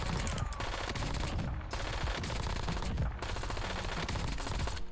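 Rapid, sustained automatic gunfire from a high-rate-of-fire weapon in a Call of Duty MWII firing range, loud and continuous bursts filling the whole stretch with only brief gaps between strings of shots.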